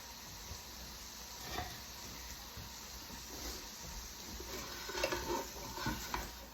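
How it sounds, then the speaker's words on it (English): Bacon fries in pans for a tater tot casserole, a faint steady sizzle and hiss with a few soft clinks and stirring scrapes. It sounds quiet and continuous, with no talking. "I'm still cooking my bacon."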